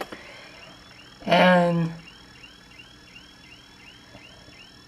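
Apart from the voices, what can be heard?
car alarm going off outside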